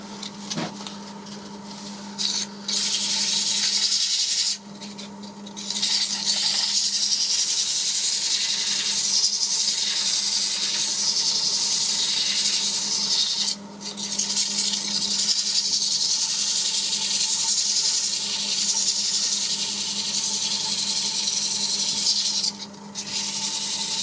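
Sandpaper rasps steadily across an elm and walnut bowl being hand-sanded, a loud, close, continuous scratchy rubbing broken only by a few brief pauses.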